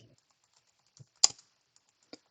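Sparse key clicks on a computer keyboard while commands are typed, with a few faint taps and one sharper, louder keystroke near the middle, close and quiet in an otherwise silent room.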